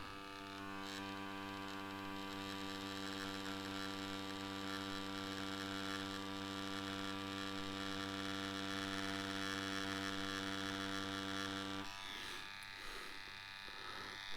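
A tattoo machine with a 5-round shader needle cartridge runs with a steady, loud electric buzz and hum, then stops near the end, leaving faint handling sounds.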